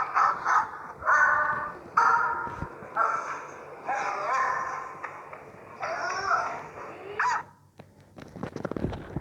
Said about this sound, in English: the sound of a dog